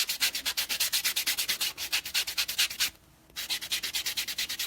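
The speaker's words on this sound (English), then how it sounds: "you want to buff before you apply" Fingernails are buffed before dip powder goes on, a steady rapid back-and-forth scraping rub, close and alone, with a brief pause near the end before the strokes resume.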